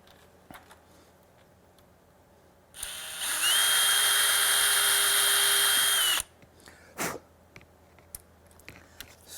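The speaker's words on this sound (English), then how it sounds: "now I can drill that in there" Power drill with a self-centering bit boring a pilot hole for a screw in a door latch: one loud, steady whine lasting about three seconds, rising briefly at start, then small clicks and handling noises afterward.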